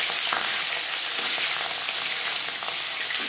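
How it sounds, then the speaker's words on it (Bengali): Salt-and-turmeric marinated khoira fish sizzles loudly in hot refined oil, a dense, constant close-up frying hiss with small crackles and no talking. "এবার দিয়ে দেবো লবণ হলুদ মেখে রাখা মাছ।"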